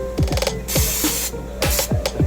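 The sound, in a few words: cooking oil spray on taco tortillas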